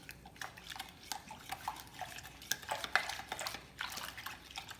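Cookie dough stirred in a bowl with a utensil, giving quick scraping, clinking strokes in an uneven rhythm, close and moderately loud with no talk.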